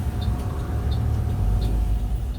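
A Pandawa 87 intercity bus pulling away from a roadside restaurant stop at night, with a low, steady engine rumble and faint periodic hissing ticks over the drone, heard from inside the coach.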